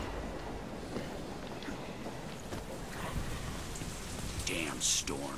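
Steady rain pours throughout a storm in the video game Deadlight, a dense hiss with scattered low rumbles, while a voice briefly speaks near the end.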